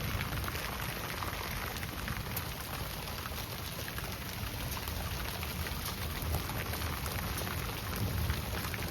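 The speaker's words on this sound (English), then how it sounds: "It's rain and everything's wet." Steady rain pours down and spatters on wet surfaces in Elliot Lake, Ontario, a dense, even hiss that carries on unbroken from start to finish.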